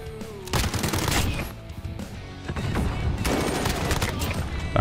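Uzi submachine gun fire in the Call of Duty: Modern Warfare gun game mode, loud dense bursts of rapid shots with a short pause between volleys, other game effects mixed in.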